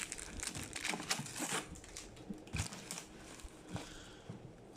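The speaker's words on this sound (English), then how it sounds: "Go ahead and use the scissors to open it" Scissors cutting the tape on a Puma Future Z 1.1 SG football boot shoe box, close crinkling and crunching of cardboard and tape in quiet, uneven bursts.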